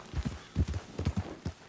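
A horse gallops in Red Dead Redemption 2, its hooves striking in quick uneven clusters of clip-clops, close and clear with no talk over them.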